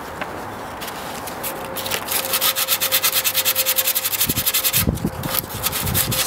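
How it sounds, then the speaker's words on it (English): Sandpaper rubbed by hand over trunk cover material makes a steady, close rasp that becomes a fast, even back-and-forth scrubbing rhythm, with no talking. "You can smooth anything out by hand with the sandpaper."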